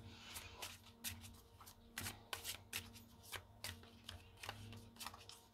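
A deck of oracle cards is shuffled by hand in a quiet room: a faint, rhythmic run of crisp riffles and soft taps at close range, with no talk.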